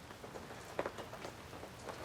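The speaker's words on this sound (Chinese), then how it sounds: "突然间下雨了哈" Rain suddenly starts falling outdoors: a faint, steady patter of drops with a few slightly louder taps, continuous and soft in the background.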